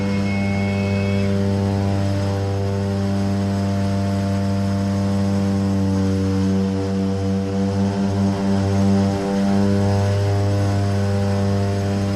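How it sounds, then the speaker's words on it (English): A light aircraft lands on a very short runway with trees straight ahead; its engine makes a steady, loud droning hum that runs throughout, with the pitch wavering slightly partway through. "So here comes Tony de Bruin landing on a very, very short runway"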